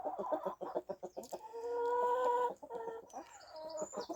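Chickens cluck close by in rapid bursts, with one drawn-out squawking call in the middle, then more clucking.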